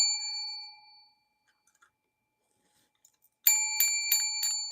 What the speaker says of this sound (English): I love the sound of the bell when I complete like a whatever it is I consider is that I completed a row